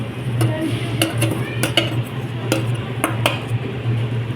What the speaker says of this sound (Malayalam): അങ്ങനെ നമ്മൾ ഷാലോ ഫ്രൈ ചെയ്ത സോയാബീൻ ഗ്രേവിയിലോട്ട് ചേർത്ത് കൊടുക്കുന്നുണ്ട്